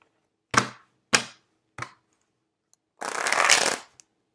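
Tarot cards being shuffled by hand: three short riffling bursts followed by a longer, louder continuous shuffle, close and alone with no talk.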